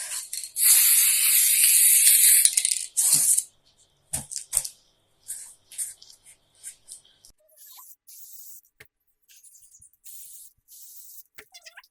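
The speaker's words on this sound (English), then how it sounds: "One more time with the spray adhesive" Spray adhesive hisses from a can onto old decorations in a long steady burst of about three seconds, followed by shorter scattered spurts and rustling handling sounds, close up with no talking.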